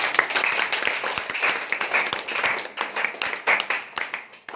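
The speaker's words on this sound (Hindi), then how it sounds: "जोरदार ताली होनी चाहिए।" An audience at a distributor training meeting claps loudly, a mix of many hands with distinct sharp slaps poking through the steady applause, continuing for several seconds.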